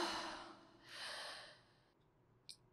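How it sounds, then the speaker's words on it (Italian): A deep breath drawn in slowly and let out softly, close and quiet in a hushed, intimate setting, followed by a small click of movement. "Un respiro profondo."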